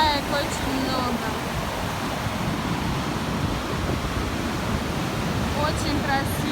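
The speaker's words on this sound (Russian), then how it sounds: "Ветер еще очень сильный, волны." Strong wind rushes steadily over the sea shore while waves break on white sand at Svetlogorsk in April, forming a loud, unbroken roar that fills the whole stretch.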